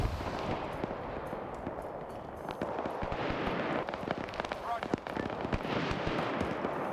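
Explosions and gunfire rumble through a battle in the video game Arma 3, dense crackling reports and deep blasts layered continuously at moderate distance.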